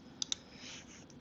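Two quick computer mouse clicks, close and crisp, while measuring parts in Peel 3 3D scanning software, then a faint hiss of room noise.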